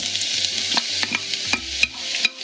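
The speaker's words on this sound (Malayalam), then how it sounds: "ഇത് നന്നായിട്ട് വഴറ്റണം." Thinly sliced onions sauté in coconut oil in a pan, with a soft sizzle and repeated scraping strokes of a spatula stirring them, close and fairly quiet with no talking.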